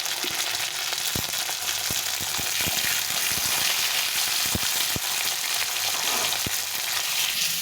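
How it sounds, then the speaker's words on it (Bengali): Strips of bitter gourd and potato frying in oil in a pan, a steady hissing sizzle close by with scattered ticks and taps of a spatula, no voices. "প্রথমে উচ্ছে আলুটাকে একটু ভালো করে ভেজে নিতে হবে।"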